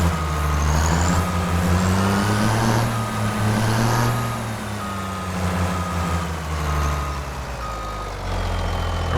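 A truck reverses in the Farming Simulator 25 game, backing in on the side during a lawn care pool-building job. A steady reversing beep repeats over a loud, continuous low diesel engine drone throughout, with no talking.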